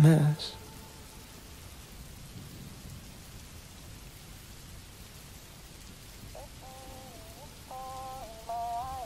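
Steady rain falls as a soft, even hiss behind a song, with a faint low rumble and a sung melody rising in the latter part.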